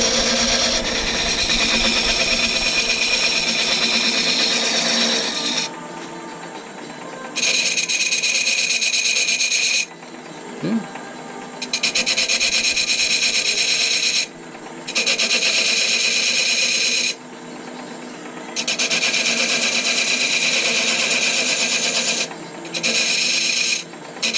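A wood lathe spins at about 500 RPM while a tool cuts a wooden ball and cup toy, giving loud harsh scraping bursts that start and stop repeatedly over a low motor hum.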